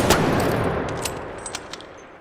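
Osprey sniper rifle shots in the Arc Raiders video game: one sharp, loud report ringing into a long fading echo, followed by a few fainter distant cracks, with no talk.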